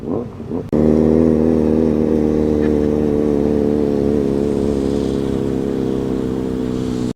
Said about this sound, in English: Fiat 126 sounds like it might be motorcycle engined.